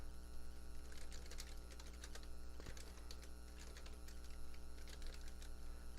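Code is typed on a computer keyboard in a rapid, uneven patter of soft key clicks over a steady low mains hum, close and fairly quiet.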